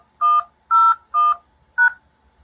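Four DTMF telephone keypad tones are entered as a conference call password: separate, evenly spaced beeps that are loud and clear against silence.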